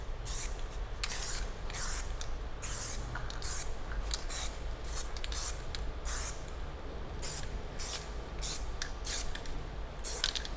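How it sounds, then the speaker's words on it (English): Close aerosol spray paint can hissing in a series of short and longer bursts with brief pauses between them, applying a light coat to a 3D print, over a steady low background hum. "Always remember to shake the can well, Okay. otherwise it won't spray properly."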